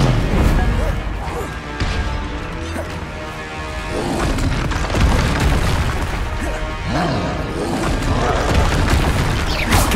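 Confringo spell blasts in Hogwarts Legacy, repeated heavy booms and crashing impacts layered over combat effects and a busy game soundtrack, loud and close throughout.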